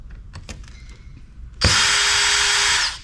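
Power screwdriver backing screws out of an old, dirty computer board: a few light clicks and taps, then a loud, close, steady whir lasting over a second.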